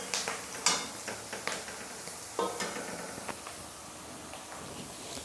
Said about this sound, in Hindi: तो सब्ज़ी को हमें उतना ही फ्राई करना है कि ये ज़्यादा गले ना, इनमें क्रंच बना रहे।